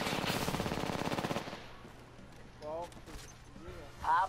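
Rampage machine gun in the Apex Legends video game, a rapid loud burst of automatic fire for about a second and a half, then quieter game sounds with a voice speaking.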